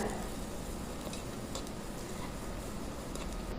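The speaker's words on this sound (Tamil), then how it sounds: "பூண்டு, இஞ்சி, கருவேப்பிலை, கொத்தமல்லி, புதினா எல்லாம் சேர்த்து வதக்கி எடுத்துகிட்டு" Garlic, ginger, curry leaves, coriander and mint sautéing in a pan give off a faint, steady sizzle, with a few light clicks of stirring over it and no talking.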